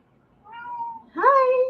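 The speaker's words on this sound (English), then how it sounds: "My cat." A pet cat meows close by, two drawn-out cries in quick succession, the second louder and more insistent, in an otherwise quiet indoor room.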